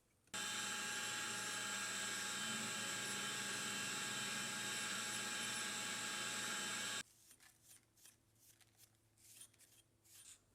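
A milling machine drills a hole in a crosshead rail part: a loud, steady high-pitched whine runs for several seconds, then cuts off abruptly, leaving quieter clicks and handling noises afterward.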